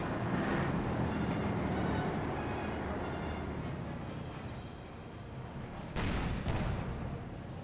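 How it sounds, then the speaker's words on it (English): Heavy shelling in a Company of Heroes 2 battle: a dense, continuous rumble of distant artillery fire, with a sharper burst standing out near the end. "Getting shelled pretty hard right now."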